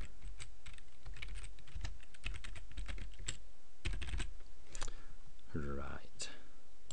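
Rapid keystrokes on a computer keyboard while entering a number into a blog widget settings box, irregular clicks clustered in bursts, close and moderately loud with a faint background hum.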